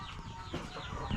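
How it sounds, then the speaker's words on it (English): A mother hen on a farm in the Philippines clucks in short, close bursts over a steady outdoor background, with no talking. "That's the mother hen right there."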